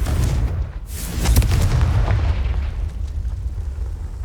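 Confringo fire-blast spell in Hogwarts Legacy, a loud booming explosion with a sharp attack and a long rumbling roar that slowly fades.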